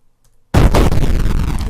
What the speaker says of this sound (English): Your tank explodes, killing the entire crew.